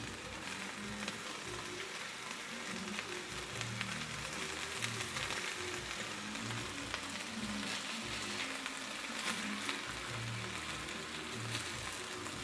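Seasoned steaks with onion chunks sizzling in a hot pan, a steady crackling hiss with small pops throughout, close and continuous with no talking.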